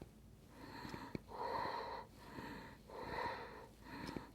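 Fast yoga breathing, with quick rhythmic nasal breaths alternating in and out at about one cycle per second, close and fairly soft, and no talk.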